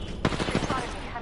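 A quick burst of close gunfire rings out in the battle royale game Apex Legends, with several rapid shots packed into about a second, loud against busy game noise.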